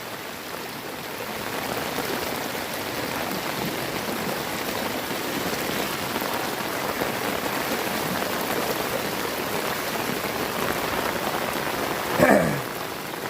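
Heavy monsoon downpour in Gir pours down steadily, a dense, even hiss of rain drumming on surfaces with rushing water beneath, loud and unbroken, with a brief louder splash near the end.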